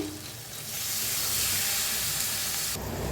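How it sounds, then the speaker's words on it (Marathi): Moth beans (matki) roast in hot oil seasoned with turmeric, giving a steady, close, loud sizzling hiss that swells and holds without pause and has no talk over it. "चांगलं भाजून घेऊया त्याच्यातच टाकूया मटकी"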